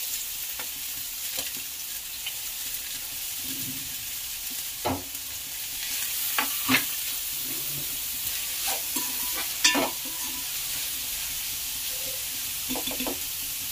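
Catla fish fries in oil with a continuous soft sizzle, broken by scattered sharp pops and spatters at irregular intervals, close and moderately loud.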